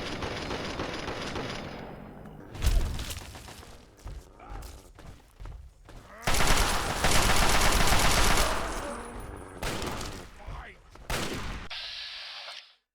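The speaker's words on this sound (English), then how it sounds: "Definitely the most effective way to use this assault rifle" Bursts of assault rifle fire in a Fallout 3 VATS sequence come in loud, repeated volleys with short gaps between them, and thuds and game sounds fill the spaces between the bursts.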